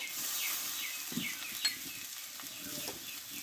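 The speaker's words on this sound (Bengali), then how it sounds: "এবার একসঙ্গে ভালোভাবে আমি একটু টাইম করে কষিয়ে নেবো" Spice masala with egg, crushed garlic and coriander leaves fries in a pan, a soft sizzle under occasional spatula scrapes and light clinks, fairly quiet and close.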